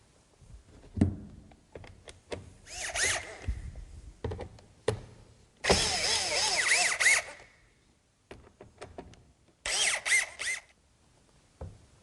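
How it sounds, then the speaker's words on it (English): Power drill driving screws into a door threshold cap, heard as three separate close bursts of whirring, each one or two seconds long, with clicks and handling knocks in between. "Now we're ready to screw the cap down."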